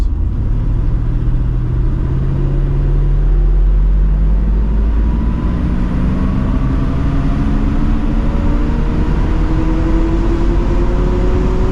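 Close, loud engine of a 1970 Mercedes-Benz 280SE 3.5 Cabriolet pulling hard under acceleration, its tone rising steadily through the revs with a continuous rumble and road noise, no talk over it.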